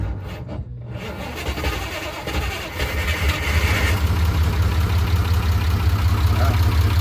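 A Unimog truck engine turns over on a jump start and catches, settling into a loud, steady diesel idle close by, with no voices.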